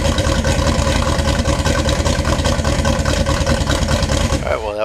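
Turbocharged car engine fired up on a newly built exhaust, settling into a loud, steady, throbbing idle close by with a rough pulsing rhythm, running continuously.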